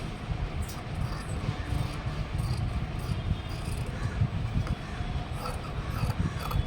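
Scissors cutting through blouse fabric for a front panel, a continuous close rubbing, rasping snip with small rhythmic bursts, fairly quiet and without talk.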